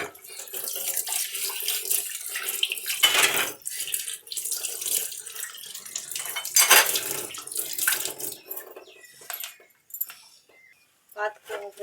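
Water runs from a tap at a home sink while brass pooja vessels are washed, splashing in bursts with metallic clinks and pauses, fairly close, ending in near silence.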